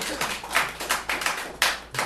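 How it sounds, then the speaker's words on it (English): Audience clapping at a poetry reading, a few uneven bursts of claps about a quarter to half second apart, moderately close, with a voice faintly under them. "Everybody clap your hands"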